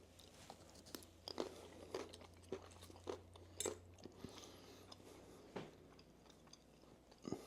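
Crunchy fried noodles in sweet and sour tuna being bitten and chewed up close, a run of sharp crisp crunches in a steady chewing rhythm, quiet and alone without talk.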